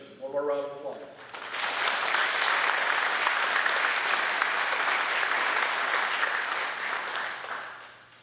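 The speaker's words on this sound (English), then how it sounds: "One more round of applause." A brief spoken line gives way to a long, full round of applause from the audience at an honors program ceremony, steady crowd clapping that swells, holds and then fades out.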